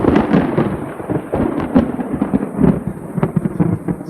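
Thunder following a lightning flash during a storm rumbles and crackles continuously, with a low rolling body and sharp cracks scattered throughout, loud and fairly near.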